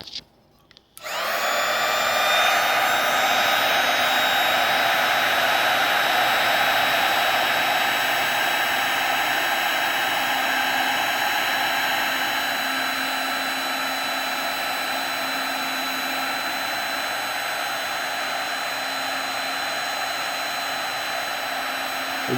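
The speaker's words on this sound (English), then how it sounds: "I'm actually have a little heat gun that I'm going to use." A small heat gun blows hot air onto a solder sleeve while a 2024 Ford Maverick mirror wiring harness is installed. A loud, steady rushing whoosh kicks in after a brief moment and holds nearly constant throughout, easing slightly later on, with no talking.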